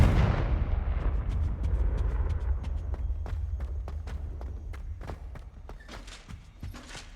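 Confringo blasting spell in a Hogwarts video game, a heavy explosive burst at the start fading into rumbling debris, followed by a rapid series of sharp crackling impacts and pops spread across several seconds.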